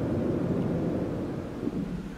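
Storm wind in the survival game No Man's Sky, a steady low rumbling roar of gusts with thunder-like depth, continuous and close, no voices.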